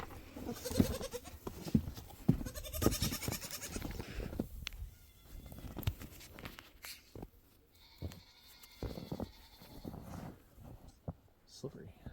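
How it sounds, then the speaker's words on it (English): Goats bleat intermittently outdoors in snow, the calls mixed with a person's talking and crunching, shuffling movement nearby. "Did you have to go say hi to the goats?"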